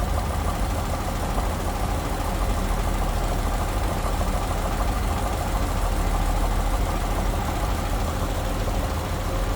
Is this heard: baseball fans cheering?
no